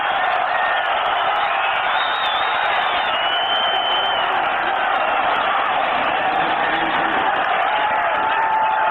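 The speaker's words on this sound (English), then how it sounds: "the crowd screaming to go" A stadium crowd at a 1997 Denver Broncos home football game against the San Diego Chargers keeps up a loud, sustained roar of screaming and whoops, a dense wall of noise that never lets up.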